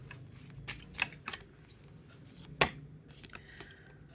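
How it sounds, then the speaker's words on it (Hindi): A Moonology oracle deck is shuffled and cards are drawn, close and quiet, with soft riffles, slaps and flicks of card stock in irregular bursts. "कुछ कार्ड मैं मूनोलॉजी डेक से लूँगी"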